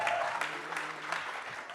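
Audience applause at a 2024 winter solstice celestial ceremony at CoSM, a steady wash of clapping from a crowd that stays fairly faint and even throughout.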